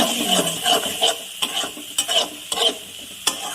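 Mustard paste stirred into a sizzling fish curry in a pan, with repeated scraping strokes of a spoon about every half second over a frying hiss, close and loud, no voices.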